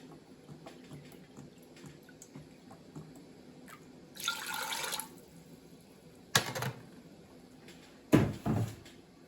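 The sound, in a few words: water poured into a pot for canning pickles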